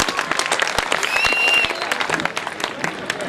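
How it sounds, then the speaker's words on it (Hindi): Enthusiastic clapping from an audience at a Hindi poetry recital, steady and lively for a few seconds at moderate volume. "ताली बजाओ एक बार जोरदार"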